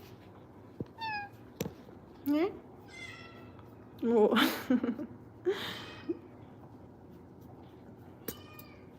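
A cat meows a few times, nearby and fairly clear, with a person speaking a couple of short words between the meows.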